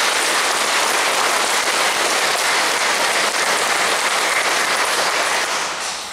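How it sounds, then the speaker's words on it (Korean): A church congregation at a feast-day Mass applauds, a loud, dense, rain-like roar of many hands clapping together that holds steady throughout and eases off slightly at the very end. "천국에 있는 바울 정화상을 위해서 여러분들 박수 한번 보내주시오."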